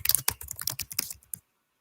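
Rapid typing on a computer keyboard, a close burst of crisp key clicks lasting about a second and a half before falling silent.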